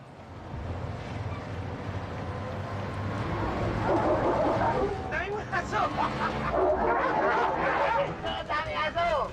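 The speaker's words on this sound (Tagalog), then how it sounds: "Dami aso!" Many dogs bark and yip in an excited, overlapping chorus that grows louder midway, mixed with background voices and a low rumble.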